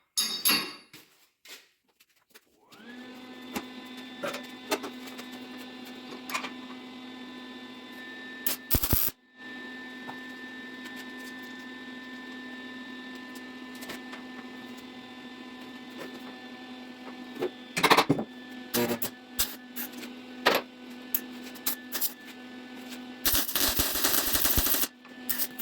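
Arc welding a hook onto a trailer frame during a rebuild: a steady electrical buzz with a sharp crackle holds for about twenty seconds, broken by a few brief loud clanks and bursts, with no talking.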